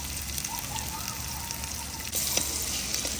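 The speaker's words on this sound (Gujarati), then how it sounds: "હવે એમાં આપણે જે લીલું મરચું લસણ ને બધું વાટેલું હતું ને એ નાખી દઈશું વઘાર કરવા" Ground green chili and garlic sizzle in hot oil as a tempering for a pigeon-pea (tuvar) kadhi, a soft steady hiss with light crackles and a small bump in loudness near the end.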